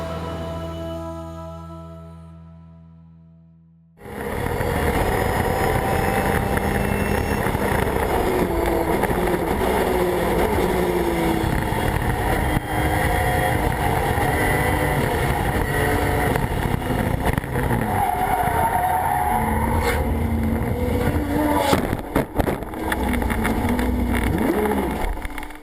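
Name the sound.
race cars on track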